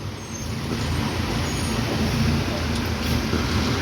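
Heavy road traffic heard from a truck cab as an oncoming vehicle passes, a loud continuous engine and tyre rumble with a rising whoosh, no voices.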